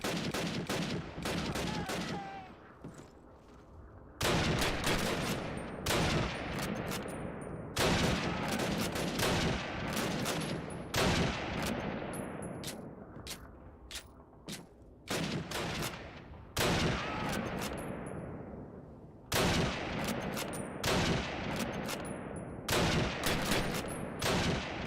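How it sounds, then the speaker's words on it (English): Heavy bursts of gunfire in a World War II video game, with Germans holding a house, come as repeated loud volleys and rapid suppressing-fire salvos that follow one another closely across the whole stretch. "Suppressing fire."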